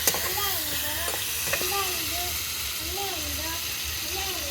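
Chicken frying in a pot for a chicken fry dish, a steady close sizzle and hiss with a few brief clinks of a spoon as it is stirred, under a wavering tonal background.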